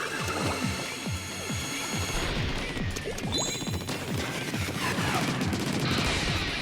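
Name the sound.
rapid weapon fire in the video game Splatoon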